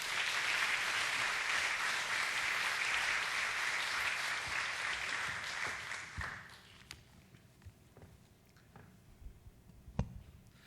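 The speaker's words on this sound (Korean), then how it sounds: "박수로 모시겠습니다." Crowd applause in a church welcoming a missionary pastor to the pulpit, dense and steady clapping for about six seconds, then thinning out to a few scattered claps and small room noises.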